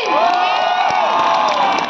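A concert crowd cheering and shouting over steady applause at a tourism festival in Agartala, loud and sustained, with whoops rising above the din.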